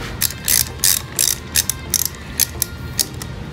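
A hand ratchet loosening nuts on a Hyundai Veloster Turbo during clutch work, giving about nine sharp, close metallic clicking bursts in an uneven rhythm over a quiet garage background.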